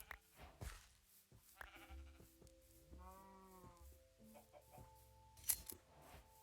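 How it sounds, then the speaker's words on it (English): Sheep bleat repeatedly in a video game, several wavering cries overlapping with soft game tones and clicks, faint and fairly steady throughout. "There's a bunch of sheep."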